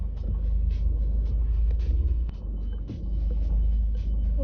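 A car driving on the road, heard from inside the cabin as a steady low engine and road rumble with faint intermittent clicks and bumps, no talking.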